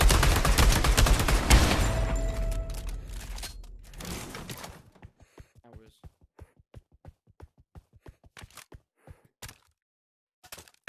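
Gunfire in the Pavlov VR zombies mode: a dense, loud burst of rapid automatic fire fades into a long run of evenly spaced single shots, with a player's voice and gasps over it.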